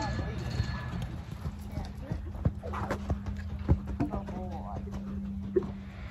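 A Tennessee Walking Horse canters, and its hooves make a loose rhythm of sharp clip-clops, some louder thuds standing out. A person talks over the hoofbeats, and a low steady hum runs beneath.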